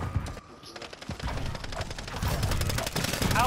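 Rapid gunfire crackles through an online match of Call of Duty Modern Warfare 3, a dense stream of close shots building in loudness with brief quieter gaps.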